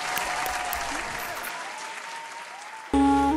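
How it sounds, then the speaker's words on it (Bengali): Loud applause from a crowd for a dancer on a stage show, a dense burst of clapping that tapers off before a sudden loud musical chord cuts in at the end. "এটা জোরে হাততালি প্রীতমের গ্রুপ থেকে অনিকের জন্য।"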